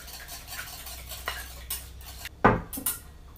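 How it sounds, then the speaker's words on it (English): Two eggs whisked in a bowl for bran muffin batter, with quick scraping strokes and clinks of the whisk or spoon against the bowl, ending in a louder knock or two. "whisking together 2 eggs"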